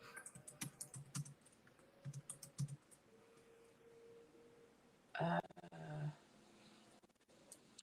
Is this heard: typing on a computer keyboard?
yes